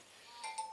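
A phone text message notification: a brief, faint pair of bright electronic chime tones sounding quickly one after another against a quiet background.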